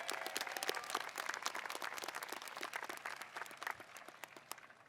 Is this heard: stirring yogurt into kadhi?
no